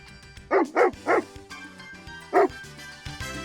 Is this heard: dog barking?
yes